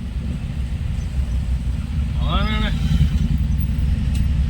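A big vehicle rolls past in traffic, a steady low rumble of engines filling the street, with a brief voice speaking partway through.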